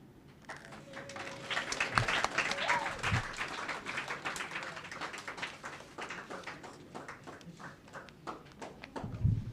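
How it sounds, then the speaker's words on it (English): An audience at a public library summer school closing ceremony gives dense, sustained applause after a child's reading, with a brief whistle-like tone early on and occasional low thumps, the clapping fairly distant and soft. "Give him another clap, please."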